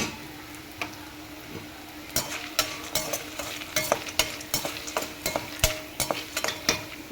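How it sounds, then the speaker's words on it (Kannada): Puffed rice mix ingredients being fried with salt in a pan for Davangere-style mandakki, giving a steady soft sizzle with irregular scraping and tapping of a spatula against the pan, quiet at first and then busier. "ಸೊ ಕೊನೆಯದಾಗಿ ಸಾಲ್ಟನ್ನ ಹಾಕ್ಬಿಟ್ಟು ಫ್ರೈ ಮಾಡ್ಕೊಳ್ಳಿ ಹೀಗೆ."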